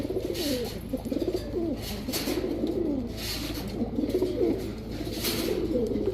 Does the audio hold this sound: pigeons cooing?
yes